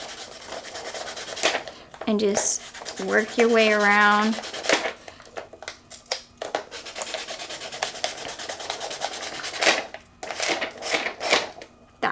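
A sanding tool rasps against an acrylic cheer spirit stick in short, gritty bursts of scraping strokes, close to the mic, broken by pauses while a person talks.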